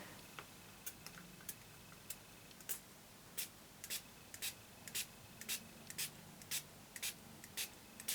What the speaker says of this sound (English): I hope that you can hear the amount of times I'm spraying this.